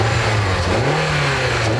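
A 2003 Acura TSX, based on the European Honda Accord and fitted with VTEC variable valve timing, accelerates with a steady mid-pitched engine note that climbs in pitch. The sound is close and loud, with no talk.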